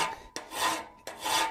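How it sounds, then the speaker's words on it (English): A file rasping on metal close to a nut on a door knocker held in a vise: two long, steady strokes with a short pause between, near and clear. "And now we're going to file right up close to that nut."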